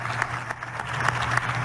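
Crowd applause fills a senate chamber in Mexico, a dense, steady patter of many hands clapping at moderate volume for under two seconds.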